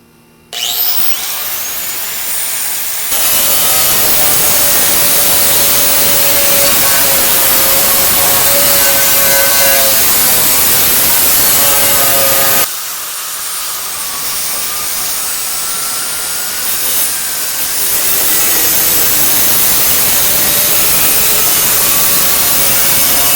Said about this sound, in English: I've installed this 4-inch metal cutting wheel on my 4-inch grinder. And that's what I'm going to use to cut this.